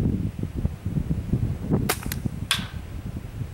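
A paintball marker fires First Strike rounds on an outdoor test range: two sharp, close pops about half a second apart over low background rumble.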